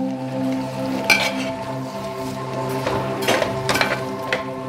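A spoon or ladle stirs washed biryani rice in a cooking pot, giving sparse metallic clinks and scrapes over a steady low kitchen hum.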